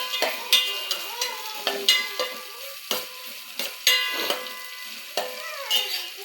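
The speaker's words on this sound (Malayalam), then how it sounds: "ഉള്ളി നന്നായി ബ്രൗൺ കളർ വരെ വഴറ്റി കൊടുക്കാം." Onions sautéing in a pan for a Kerala chickpea curry, with repeated scraping stirs and clinks of a spoon against the pan over a soft sizzle, close and fairly loud in irregular strokes.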